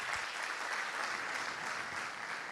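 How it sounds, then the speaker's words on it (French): An audience at a conference on business financing and growth applauds students warmly, with steady dense clapping that fills the hall throughout, without pauses. "je vais vous demander d'applaudir chaleureusement ces étudiants-là."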